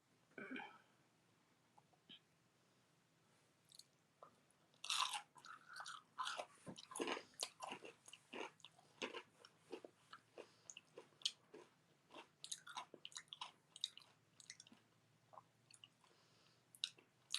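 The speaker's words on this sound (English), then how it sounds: "I'm going to taste the French fry." French fries with honey mustard are bitten and chewed close to the microphone in a series of quiet, irregular crunchy and wet mouth sounds, with brief pauses between bites.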